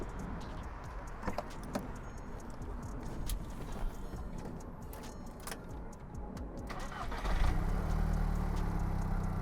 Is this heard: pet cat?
no